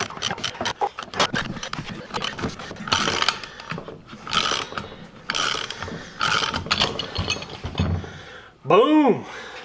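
Manual wrench ratcheting on a power steering pump pulley drive shaft, rapid repeated clicks in bursts mixed with metallic clanks, someone talking intermittently over it.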